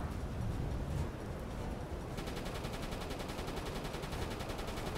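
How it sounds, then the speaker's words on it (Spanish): Gunfire in the submarine game Uboat, a loud burst of heavy shots followed by sustained rapid machine-gun fire that rattles in an even, fast rhythm to the end. "No sé quién está disparando"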